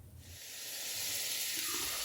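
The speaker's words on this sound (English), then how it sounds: "Now, let's add the long beans." Long beans tipped into a hot pan with bay leaves for adobong sitaw, giving a steady, close hiss and sizzle that swells and holds for about two seconds with no talk.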